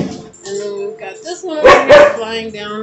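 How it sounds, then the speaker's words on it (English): A pet dog lets out two quick, loud barks close by in a home, cutting through a person's ongoing talk. "Sorry about the dogs. He freaked out because I moved."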